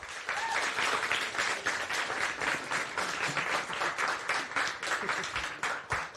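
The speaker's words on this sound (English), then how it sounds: "huge round of applause." Audience applause fills a room at a software demo event, dense steady clapping from a crowd that carries on throughout, fairly close and loud with no talk over it.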